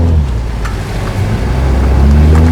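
A 2020 Toyota Supra's engine: a deep, steady rumble that builds into a rising, louder note near the end as the car accelerates, heard close with no talking.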